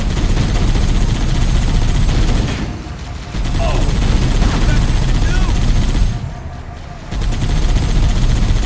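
Dense, loud gunfire in Halo: Combat Evolved roars almost continuously, dropping off briefly twice before resuming, with battle noise mixed in.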